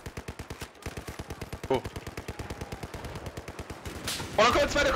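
Rapid automatic gunfire rattles continuously in a Battlefield 4 multiplayer match, a dense stream of close shots with a louder burst of nearby fire and explosion-like noise near the end, while a voice talks over it.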